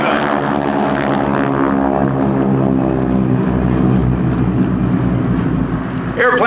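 Skytypers propeller airplanes fly overhead at a 2005 air show at Andrews AFB, their loud, steady engine drone filling the whole stretch while an announcer talks over it.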